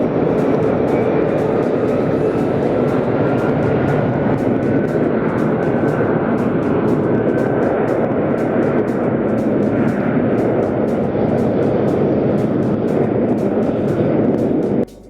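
Boeing 757 jet engines at Las Vegas, a continuous, loud, broad roar holding steady throughout with regular faint ticking on top and no voices.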